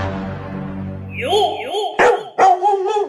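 A dog barks close by in a comic home scene, with several sharp, loud yips and barks in quick succession following a sustained low hum, with no talk over them.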